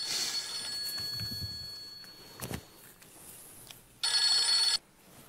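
A telephone rings in a domestic scene, its bright electronic tone sounding in a faint, steady stretch at the start and returning as a louder, harsh burst near the end over quiet room noise.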